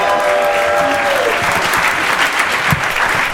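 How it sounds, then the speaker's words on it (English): A concert crowd in Atlanta applauds steadily in a warm indoor venue, dense continuous clapping with a few scattered cheers and voices mixed in. "Give yourself a round of applause."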